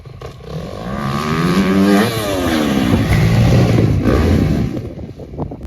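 Motocross motorcycle engine revving loudly and continuously as the bike rides up and launches off a jump on an amateur supercross track, pitch rising then falling and climbing again, close and alone without talk.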